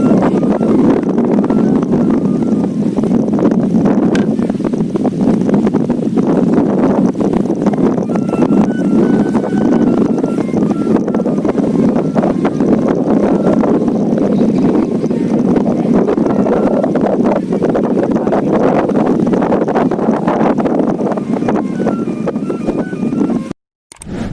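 Strong west wind buffeting an outdoor microphone, a loud continuous rumbling roar that gusts and surges for over twenty seconds without letup before cutting off abruptly.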